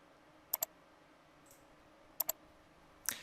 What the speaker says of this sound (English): and then click Add.